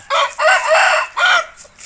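A hybrid fighting cock crows loudly and close by, one drawn-out call rising and falling across nearly two seconds, with a brief cluck after it.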